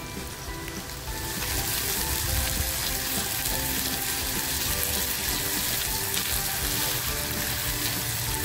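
Onion fries in a pan with ginger-garlic-coriander paste for stuffed squid with prawns, a quiet start bursting into loud, steady sizzling after a second, with occasional stirring scrapes up close and no voices.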